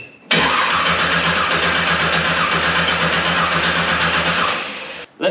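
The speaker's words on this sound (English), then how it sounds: "let's see if the car will start up" A hot rod's engine cranks and catches, then runs loud and steady for about four seconds before cutting off abruptly near the end.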